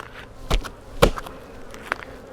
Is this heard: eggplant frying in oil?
no